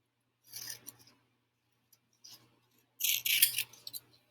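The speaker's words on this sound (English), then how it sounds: "Cut out the individual pages. Make sure to cut around the tabs." Scissors cutting out paper booklet pages, heard as three close, crisp bursts of snipping separated by short pauses, the last burst the loudest.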